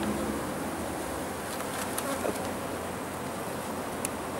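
Honeybees drone steadily around an open hive, a dense close buzz that holds throughout with a few individual bees passing near.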